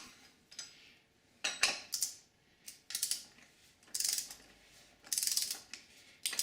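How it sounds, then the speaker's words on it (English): The oil drain plug on a 2013 Land Rover LR4 is tightened with a ratchet wrench and then a torque wrench, heard as close, bright ratcheting clicks in short repeated bursts separated by brief pauses. "now we're going to tighten it using our wrench and our torque wrench"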